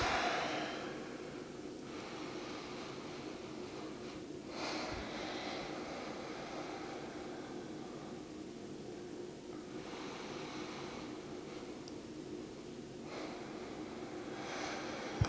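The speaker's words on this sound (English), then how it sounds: "take 3 breaths" Slow, deep breaths during a seated yoga pose, soft and close, a few long inhales and exhales spaced several seconds apart over a faint hiss.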